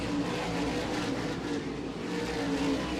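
Race cars roar around the Carteret racetrack in a continuous, dense engine drone, steady and fairly loud with no distinct pass-bys standing out.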